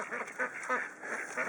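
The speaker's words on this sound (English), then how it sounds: "Look at the ducks." A group of ducks quacking outdoors, repeated nasal calls overlapping in an uneven rhythm, close and fairly loud against a steady background hiss.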